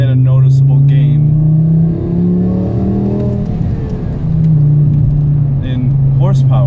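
Mk5 Volkswagen Jetta fitted with an aftermarket exhaust, engine droning loud and steady up close with slight rises in revs, while a person talks over it.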